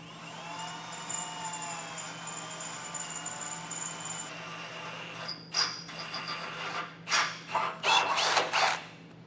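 A drill bores out spot welds on the bumper of a 2017 Ford Explorer, with a steady high motor whine at first, then several short loud grinding bursts as the bit cuts through the metal, close up and with no talking.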